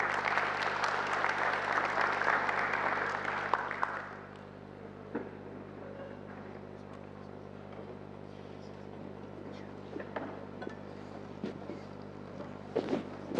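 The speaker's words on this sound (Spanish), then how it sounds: "Un aplauso para recibirlos, por favor" An audience gives dense, steady applause to welcome the speakers at a panel on community networks. The clapping fades out after about four seconds into a quiet room with occasional small knocks and rustles.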